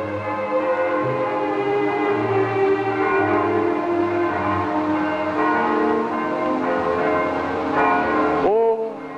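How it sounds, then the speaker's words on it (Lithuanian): Church bells ring out loud and sustained, their overlapping tones resonating continuously and then cut off abruptly near the end. "Kad visi varpus išgirst ir kiltų į Dievo namą, iš kur varpų balsai pareina"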